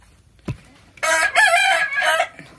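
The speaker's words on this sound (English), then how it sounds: "He's trying to call the red rooster." A red rooster crows once, loud and close, in a long, ragged call after a brief knock, with nothing else around it.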